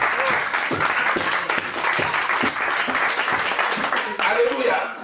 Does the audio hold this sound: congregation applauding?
yes